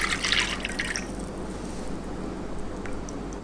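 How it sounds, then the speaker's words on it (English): Thick rendered pork lard pours steadily into a glass jar, with a few light drips and clinks at the start. "I pour it in."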